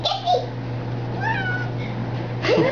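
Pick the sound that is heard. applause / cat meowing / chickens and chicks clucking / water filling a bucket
cat meowing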